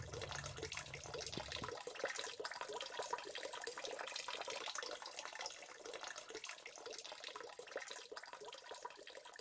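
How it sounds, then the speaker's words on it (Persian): Steady rushing of water pouring from the end of a roughly 500-metre hose running down a steep slope, a constant faint splashing hiss, with a low hum only at the start. "شیب تند مسیر باعث شده است شلنگ آب را به خوبی به پایین سرازیر کند."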